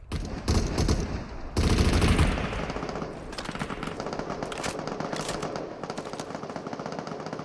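Rapid gunfire from the battle royale game Super People, with loud automatic bursts in the first seconds easing into steady, quicker shots that continue throughout.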